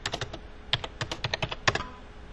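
Someone types on a computer keyboard while entering a job number into job-management software. About a dozen quick, close, crisp keystrokes click in an uneven rhythm, with no voices.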